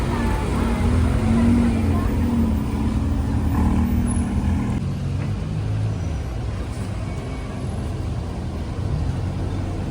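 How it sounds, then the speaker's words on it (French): A Mercedes-Maybach S580 rolls past on a summer street in Saint-Tropez, a steady broadband engine and tyre rumble that swells and then eases slightly amid general street noise. "Avec la petite Maybach S580 qui suit."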